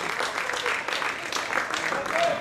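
Spectators at an American football game in Gdynia, Poland applaud in a steady, moderately distant patter while a commentator talks over it.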